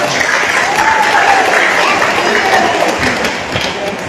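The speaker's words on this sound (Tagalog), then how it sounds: "Yung palakpak ninyo yan" An audience at a church anniversary celebration breaks into dense, loud applause that holds steady for several seconds before easing slightly near the end, with crowd noise blended in.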